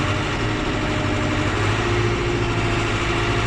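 A John Deere 6120E tractor engine idles steadily while warming up, a close, continuous low rumble with a mechanical vibration that holds even throughout.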